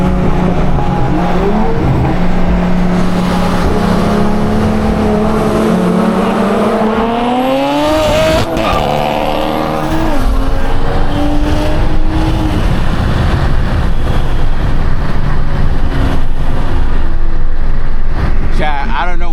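Street race in Mexico between a big-turbo BMW N54 and a B58 car: a loud engine climbs and revs hard, then a rough, broken burst of noise near the middle before steady roaring acceleration continues, with voices over it.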